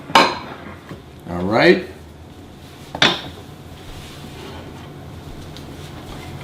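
Two plates are taken out in a kitchen while making French toast, producing clinks and ceramic scraping in a few distinct bursts close by, with someone speaking briefly.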